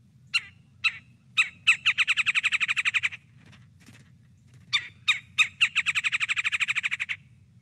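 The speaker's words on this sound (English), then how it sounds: "the red-bellied woodpecker, which is actually pretty distinctive by sound" A red-bellied woodpecker sounds two series of sharp calls, each starting with a few spaced notes and speeding into a rapid, rolling, churring trill, fairly close and clear over a low hum.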